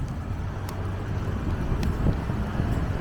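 Steady wind blustering across a microphone on a rainy street in Ikebukuro, Tokyo, a low continuous rumble with a few faint ticks on top, no talking.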